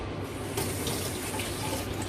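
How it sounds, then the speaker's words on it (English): A kitchen tap runs steadily as a spoon is rinsed under it, a close, even rush of water with no speech. "Just rinsing the spoon as it goes on every time."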